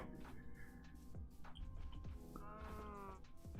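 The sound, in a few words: sheep bleating in the video game Minecraft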